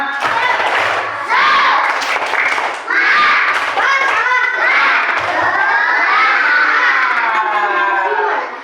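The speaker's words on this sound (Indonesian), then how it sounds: "Tepuk semangat." A group of third-grade children in a classroom chant loudly in unison with rhythmic clapping, their voices filling the room in repeated bursts.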